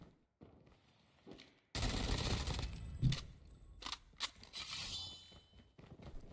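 AK rifle fire in Call of Duty: Mobile battle royale, with rapid automatic bursts following a quiet opening, interspersed with sharp single cracks and short pauses, fairly close and loud.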